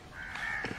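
A crow caws once during a goshawk hunt outdoors, a single harsh call of moderate loudness over faint background noise, with a brief rustle at the end.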